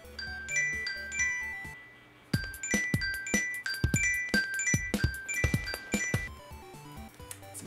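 A phone ringtone plays a bright, chiming electronic melody of plucked, bell-like notes, pausing briefly before a livelier rhythmic section with punchy beats, loud and close with no voices.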